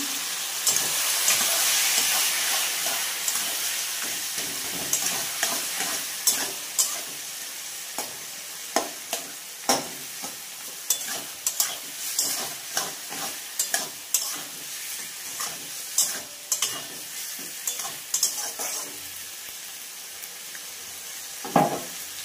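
Fish head, fish fat and prawns fry in a pan with a steady sizzle, broken by repeated sharp clinks and scrapes of stirring that come in a quick, uneven rhythm, close and moderately loud.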